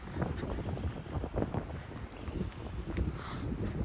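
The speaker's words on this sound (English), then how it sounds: "This wind is crazy" Strong gusty wind outdoors on a trail site, rumbling and buffeting close to the microphone in a continuous turbulent roar with no clear talk.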